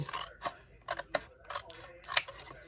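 Scissors snip through heavy 8 x 8 kraft cardstock in a quick series of about six crisp, close cuts, each a short rasping slice with brief pauses between.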